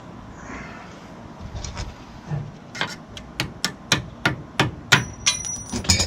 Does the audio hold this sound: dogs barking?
no